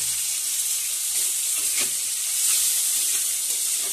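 Steady close sizzle of tomatoes frying in a pan with browned onions for a fish dish, a bright hiss throughout with a few soft stirring scrapes.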